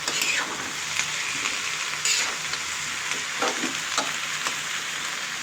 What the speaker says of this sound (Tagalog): Haluin muna natin guys.